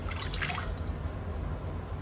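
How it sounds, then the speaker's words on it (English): Water pours into a cooking pot in a home kitchen, a close, continuous splashing rush that fills the whole moment without speech. "pour half cup water into the cooking pot"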